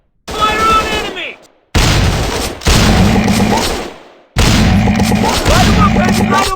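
Rapid shotgun and automatic gunfire in a first-person commando shooter game, in long dense loud bursts with brief silent gaps between volleys, close and continuous.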